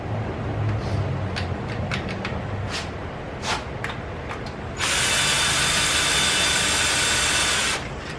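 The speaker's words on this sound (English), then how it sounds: "We're going to take a 13 or half-inch wrench, or half-inch socket rather." Half-inch socket wrench ratcheting a bolt out of an alternator bracket, a few sharp clicks followed by a sustained, steady ratcheting burst at close range, with no talking.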